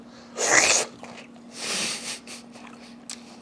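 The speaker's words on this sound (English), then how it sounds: "Give it a slurp like my pop used to." A sip of coffee slurped from a cup while dunking anisette toast, heard as two loud airy bursts of noisy breath close to the mic, with softer sniffing sounds between and no talk.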